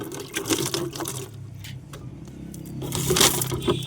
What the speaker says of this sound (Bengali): ডিমের খোসাটা এইভাবে একটু গুঁড়ো করে নেবেন